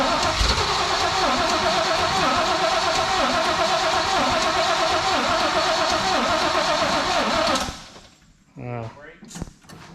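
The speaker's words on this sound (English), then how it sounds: "We're gonna fire her up for the last time." An old square-body truck engine cranks steadily and loudly for several seconds without catching, the starter cutting off abruptly, followed by brief nearby talk.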